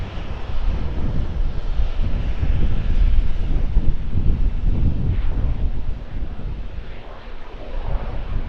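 An ATR turboprop airliner at Auckland Airport rumbles steadily at a moderate distance, its broad engine drone mixed with gusty wind buffeting the microphone throughout.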